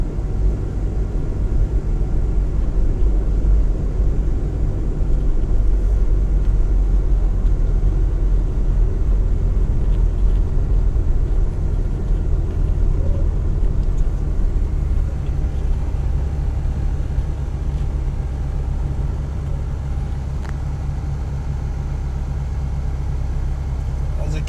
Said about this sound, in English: As you can see, the traffic.